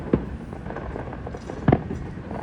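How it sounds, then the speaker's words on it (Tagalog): Fireworks burst at a pyromusical competition in the Philippines: two separate, fairly distant booms about a second and a half apart stand out from a low crowd murmur. "Yung ganyang fireworks."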